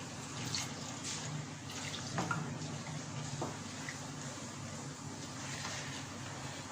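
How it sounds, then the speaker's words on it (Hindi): A glass of water poured into egg paratha batter in a home kitchen, a soft continuous trickle and splash, faint and steady throughout. "now I add 1 more glass of water in it"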